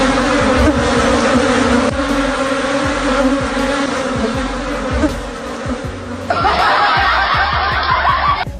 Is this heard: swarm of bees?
yes